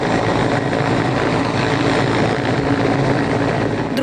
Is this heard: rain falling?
no